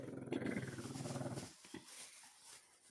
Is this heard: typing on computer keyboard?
no